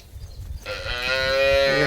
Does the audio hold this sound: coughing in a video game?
no